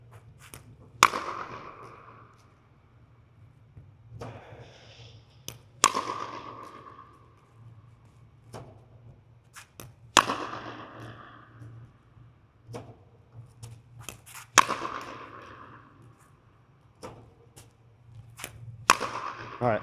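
Pickleball paddles hit balls fed from a ball machine, five sharp, loud pops spaced about every four seconds, with a faint steady hum beneath and small knocks in between.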